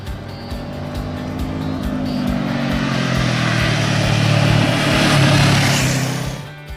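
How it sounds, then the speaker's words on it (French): A Honda CB500F motorcycle with a 471 cc inline twin engine drones loudly and steadily, its pitch climbing as it accelerates and then easing back, heard close with no voices. "Un moteur bicylindre en ligne de 471 cm3 qui délivre ses 35 kW à 8500 tours minute"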